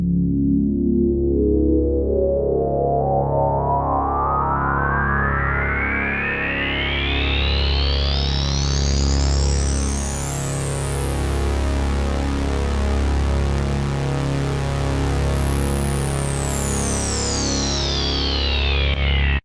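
A Roland Jupiter X synthesizer plays a sustained, heavily effected tone whose bright harmonics sweep slowly upward and back down over a deep steady drone, with chorus-like shimmer throughout.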